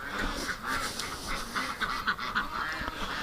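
Ducks on a winter farm property quack and chatter in a continuous, busy flock, close by, with no other voices over them.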